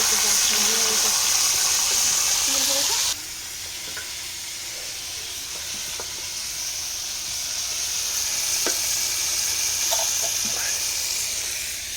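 Oil heats in a pan, a steady sizzling hiss running throughout, loudest in the first few seconds and then settling to a softer constant crackle with occasional small pops.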